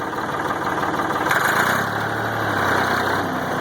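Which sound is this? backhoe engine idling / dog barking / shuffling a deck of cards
backhoe engine idling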